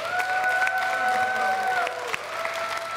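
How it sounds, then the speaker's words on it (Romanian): A television game-show studio audience applauds loudly for a contestant on the Romanian Wheel of Fortune, with dense clapping and some cheering over a sustained musical tone that shifts near the end. "Aplauze pentru George, vă rog!"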